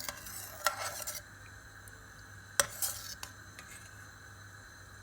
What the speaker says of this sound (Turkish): Şöyle karıştırıyoruz içindeki şeker erimesi için